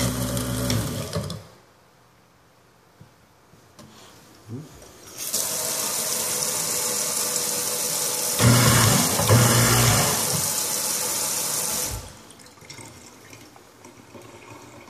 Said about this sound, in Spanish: Destructor de desperdicios.